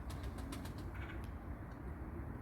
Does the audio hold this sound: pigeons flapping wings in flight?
yes